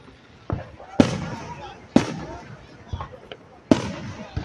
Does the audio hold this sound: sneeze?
no